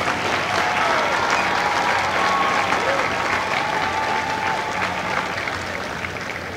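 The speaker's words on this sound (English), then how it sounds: "please join me in a round of applause for the company staff of Company B" Audience applause at a Marine Corps recruit graduation ceremony at MCRD San Diego for the Bravo Company staff, a dense, sustained crowd clapping that stays loud throughout and eases slightly toward the end.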